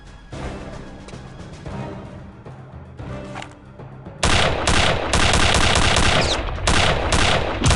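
Machine gun fire from the video game Return to Castle Wolfenstein, beginning as scattered distant shots and then erupting into loud, sustained automatic bursts with brief pauses between strings of rounds.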